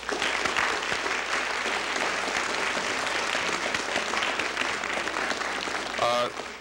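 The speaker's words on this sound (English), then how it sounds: "we owe Professor Harrison one more round of applause" Lecture audience applauding after a history talk, a dense steady clapping that fills the room for several seconds and then starts to thin out at the end.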